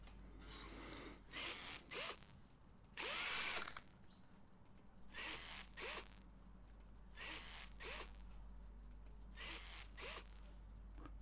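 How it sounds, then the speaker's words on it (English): Power tool tightening screws on a car in the Car Dealer Simulator video game: a series of short, loud whirring drill bursts with brief pauses between them, over a steady low hum. "Quite a few screws here to tighten."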